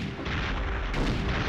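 Grenade launcher fire in Perfect Dark, heavy booming blasts packed into a dense, loud burst of explosive thuds and rumble with no voices.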